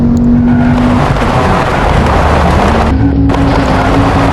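A modified car drifting at speed through city streets, its engine roaring loud and close throughout with a steady high-revving drone and brief shifts in pitch.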